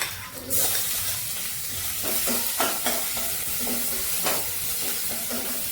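Crushed ginger, green chili and garlic fry with curry leaves in hot oil, a close sizzle with a sharp burst at the start followed by repeated spoon stirs and scrapes against the pan, no talking.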